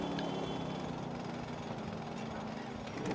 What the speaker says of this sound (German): Ja, Western Bagger Motorrad.